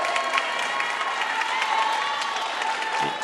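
Volleyball fans of Blue Valley Northwest cheer and applaud in a gym, a steady wash of clapping and crowd noise throughout with no clear pauses.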